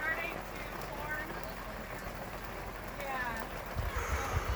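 Steady rain patters on a campsite, a continuous wet hiss with scattered drop hits, fairly faint and close throughout.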